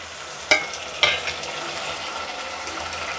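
Chopped tomatoes fry in a pan with golden brown onions for matar pulao, giving a steady close sizzle with two sharp utensil clinks near the start.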